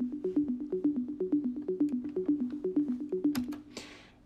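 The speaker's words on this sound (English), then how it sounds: "this is a really easy and simple arpeggio" A quick, evenly pulsing arpeggio from FL Studio's 3x OSC synth repeats a short plucky note pattern, steady and fairly soft, ending with a cymbal-like splash.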